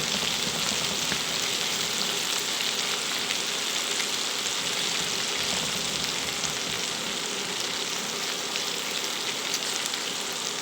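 Onion pakoda bubbles in hot oil with a dense, even sizzle and crackle that holds steady and close for the whole stretch, with no voices.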